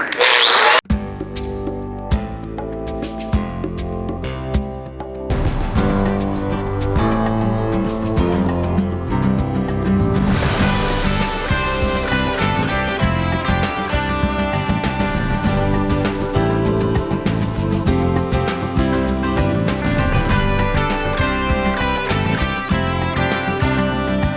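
A power tool grinds continuously and loudly, stripping paint off a 1970 El Camino's metal front fender, a harsh sustained whir with shifting pitch throughout, no voices.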